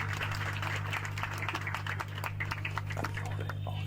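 An indoor audience claps to welcome a doctor at a public event in Aligarh, a soft, steady patter of many hands over a constant low electrical hum, heard from some distance.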